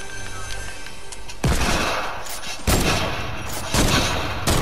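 Heavy gunshots in a video game, three loud booming blasts spaced about a second apart over a constant rumbling game background, close and forceful.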